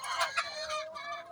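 Chickens cluck and squawk in short repeated calls on a Moroccan poultry farm of mixed breeds, close and fairly clear with no talk over them.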